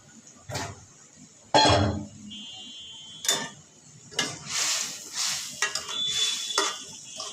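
Big pieces of rohu fish are sautéed in spices in a pan, with intermittent scraping and stirring strokes, short sizzling bursts and clatters, near and irregular.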